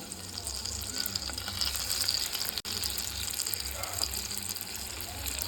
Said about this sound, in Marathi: तेल आपलं आता गरम झालेलं आहे आता आपण त्याच्यामध्ये वडी सोडू अगदी अशा हलकी हाताने सोडा